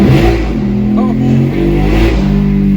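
A custom Ducati Monster 1200 motorcycle engine warming up on a dyno, a loud, close, steady low rumble with slight rises and dips in pitch, heard alone.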